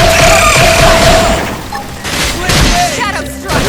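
Rapid gunfire bursts and booming impacts during combat in the video game Xenoblade Chronicles X, loud and dense, layered with tonal game effects and character voices calling out over the shooting.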